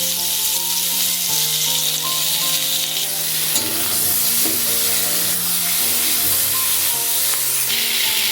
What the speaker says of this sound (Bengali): পটলটা যতক্ষণ না নরম হচ্ছে ততক্ষণ ভেজে নেব।